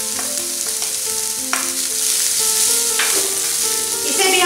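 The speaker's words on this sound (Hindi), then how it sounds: "अब हम इसमें बारीक कटी हुई पत्ता गोभी डालेंगे, मिला लेंगे, शिमला मिर्च डालेंगे" Finely chopped cabbage and capsicum are stir-fried in a hot pan for a vegetable mushroom soup, a loud steady sizzle broken by repeated scraping stirs and brief clatters, with no voices.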